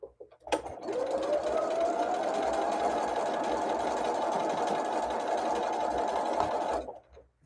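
Sewing machine stitching a star point into a quilt block, running in one continuous whirring burst of about six seconds that starts and stops abruptly.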